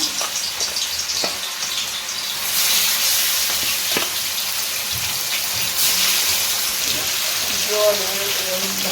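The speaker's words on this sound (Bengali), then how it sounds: "এবার মাংসটার মধ্যে তেলের মধ্যে ছেড়ে দেব মাংসটাকে একটু ফ্রাই করে নেব" Chicken pieces frying in hot oil for a roti and chicken kosha dish, a steady bright sizzle with occasional pops and crackles, close and continuous, growing louder partway through.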